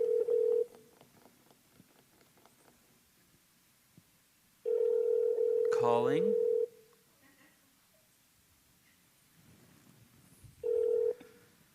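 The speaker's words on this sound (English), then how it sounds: "So my phone is calling." A mobile phone call sounds its tone in steady, clear bursts: one at the start, a longer one midway and a short one near the end, with a brief chirping electronic sound during the middle burst and quiet gaps between.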